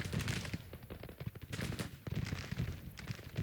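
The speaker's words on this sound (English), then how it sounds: "we've got cannons on right behind, doing some devastating damage." Battle fire rolls through a Grand Tactician: The Civil War game scene, with dense crackling volleys and heavy booms of cannon and musketry going off continuously at mid distance.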